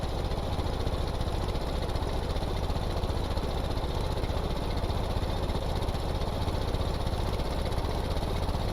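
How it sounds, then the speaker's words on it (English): A vehicle engine revving while held in a long gear of an old 4-speed gearbox in the Stormworks game, a constant dense droning roar that stays loud and unchanging throughout. "So I can hear the engine revving up."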